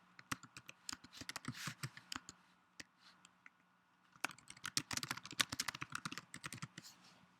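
Names typed on a computer keyboard, quick irregular clusters of close key clicks in two bursts separated by a short pause, fairly quiet and alone with no talk.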